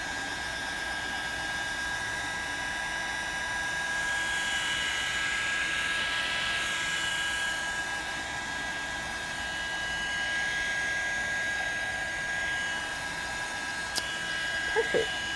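A hair dryer blows steadily on a pumpkin coated in wet Mod Podge, a constant close whooshing hum with a faint whine that holds for the whole stretch, ending with a few small clicks.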